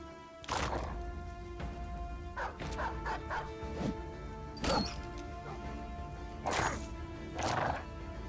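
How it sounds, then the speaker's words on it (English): Several dogs bark in short, scattered bursts in a fantasy battle in the Battle Brothers video game, mid-loud over a steady droning game backdrop, with occasional horse-like whinnies mixed in. "Kind of unfortunate we had to flood the field with dogs"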